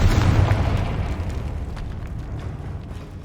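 Confringo blasting spell in Hogwarts Legacy detonating inside a tomb with a heavy, loud boom that rumbles and slowly decays over a few seconds, no talk over it.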